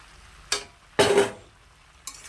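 Banana flower being stirred in a cooking pan with fried spice paste, three separate scraping, rustling strokes, the middle one longest and loudest, close up with quiet gaps between.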